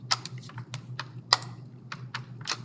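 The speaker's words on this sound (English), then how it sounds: "if I hold shift on my keyboard, if I click on it and hit shift" Keys and buttons are pressed on a computer keyboard while working in SketchUp, giving a string of light, close, irregular clicks and taps over a low steady hum.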